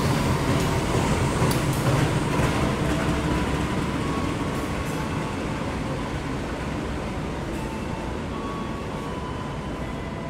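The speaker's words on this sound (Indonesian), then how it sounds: "Yang baru masuk ini kereta Bogowonto dari stasiun Lempuyangan tujuan ke stasiun Pasar Senen" Bogowonto train from Lempuyangan to Pasar Senen arriving at a busy Kutoarjo station, a loud, continuous rumble and rolling rail noise that holds steady throughout, with faint brake squeals and clanks along the platform.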